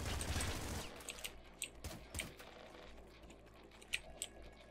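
Rapid gunfire bursts of an auto shotgun in the video game Nuclear Throne, fairly quiet, made of sharp irregular cracks and clicks over a busy game background with no talk.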